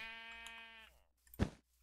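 In a video game, a baby sheep gives one faint, wavering bleat, then a short soft thump follows after a brief pause.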